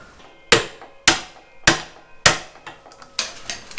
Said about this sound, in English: we gotta hit that with a hammer first